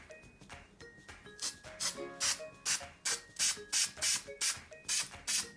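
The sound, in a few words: spray glue being sprayed onto a model tree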